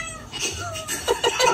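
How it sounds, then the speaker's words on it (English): A very dramatic cat meows loudly and insistently in several drawn-out, wailing cries that sound like a crying baby, growing louder toward the end. "This guy has a very dramatic cat."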